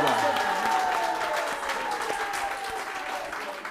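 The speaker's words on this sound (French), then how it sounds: "Donc, on applaudit." Applause from a large gathering of women at a community event in Agboville, Côte d'Ivoire, steady and dense throughout, with a faint tonal line running underneath.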